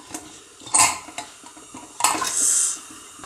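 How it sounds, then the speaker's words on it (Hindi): Metallic clanks and scrapes of a pressure cooker lid being fitted and locked in place, a few distinct knocks followed by a brief grinding turn. "ढक्कन लगा दिया है कुकर का"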